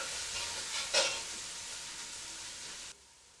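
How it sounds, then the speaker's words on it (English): Garlic ginger paste with finely chopped red onion sizzles steadily in a hot pan, with a brief stir scraping through near the start before the frying noise drops away. "Mix the ingredients well and cook until the onions brown."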